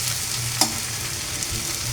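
Chili and onion frying in mustard oil, a steady close sizzle with a brief stirring clink, no talking.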